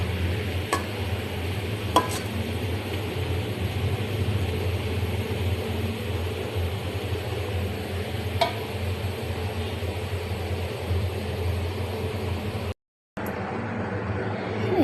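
Onions fry in a pan and are stirred, a steady low sizzle with occasional sharp clicks of the spoon, close and continuous with a brief dropout near the end.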